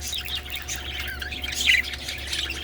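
Parakeets in a flight cage squawk and chirp in scattered bursts, a busy flock heard at moderate distance over a steady low hum.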